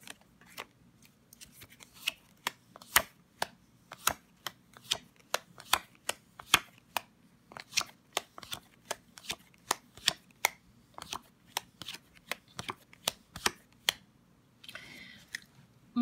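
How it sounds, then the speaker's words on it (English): Tarot cards are cut and shuffled up close in a long series of sharp, crisp snaps and riffles at an irregular rhythm, with quiet gaps between them. "Cutting the cards,"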